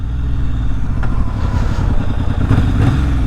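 A Yamaha XS750 motorcycle with freshly cleaned carburetors idles loudly and close, its engine chugging in a rough rhythmic pulse with a few sharp pops and clattery bursts cutting through.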